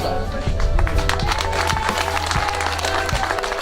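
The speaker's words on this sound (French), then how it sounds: "d'applaudir toute cette équipe." Applause and cheering from a crowd at a stadium during the 5th Rallye Découverte des Coteaux Varois in Provence, steady and loud, with low rhythmic thumps and a voice speaking over it.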